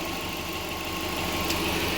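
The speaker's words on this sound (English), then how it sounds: "Engine sounds phenomenal." A 2005 JDM-imported SG5 Subaru Forester XT sits idling, a steady close-up engine hum with even vibration and a faint high whine, recently given an engine flush and fresh oil, with no voices over it.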